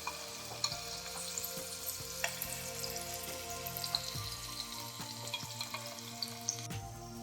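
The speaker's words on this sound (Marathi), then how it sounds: "आलं लसूण आणि मिरची पेस्ट आहे ती मी अशी चांगली परतून घेतलेली आहे तेलामध्ये" Ginger, garlic and chili paste fries in hot oil in a wok, a steady close sizzle with small crackles and pops throughout, no voices.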